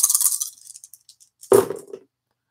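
Dice clatter and rattle in two short bursts, close and crisp with a quiet gap between, during a solo game of Ganz Schön Clever.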